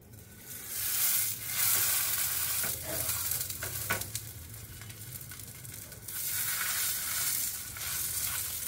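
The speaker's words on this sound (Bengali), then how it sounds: "আমাকে বলেছে এটা এপিট ওপিট একটু তেলে সেঁকে নিতে" Food shallow-fries in a little oil, turned side to side in the pan, giving a steady close sizzle and crackle with occasional stirring scrapes and no voices.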